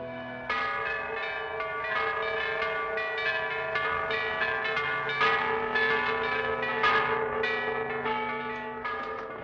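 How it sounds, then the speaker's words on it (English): Church bells in France toll for a wedding, ringing in a continuous cascade of overlapping strikes with long resonant hum, loud and sustained throughout. "What are those bells? They toll the hour of marriage."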